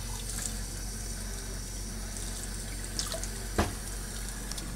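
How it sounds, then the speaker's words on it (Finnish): Water runs steadily from a tap, a constant close-up hiss and splash that lasts throughout, with a couple of brief clinks near the end. "Otetaan vähän vettä."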